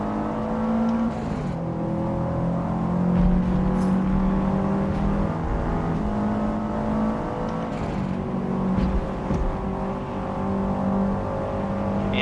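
A stock car with no upgrades races against level 7 AI in Forza Motorsport on PC. The engine drones and whirs continuously, with rising revs and other cars passing.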